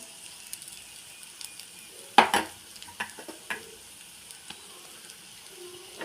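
A spoon stirs mashed potatoes in a frying pan for potato podimas, making soft scraping and clinking strokes at irregular intervals over a faint sizzle.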